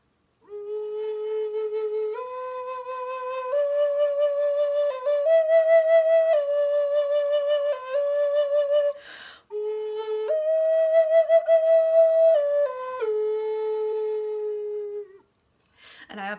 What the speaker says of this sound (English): So this is a wooden flute from Oklahoma